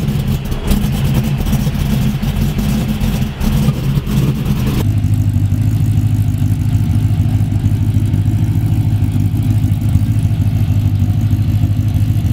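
A car engine idles steadily while warming up, a continuous low rumble that stays loud and even throughout, with a brief rougher stretch at the start before settling into a smoother hum.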